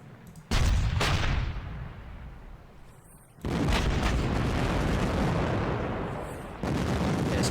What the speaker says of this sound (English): Here comes our main batteries. These are 15cm guns.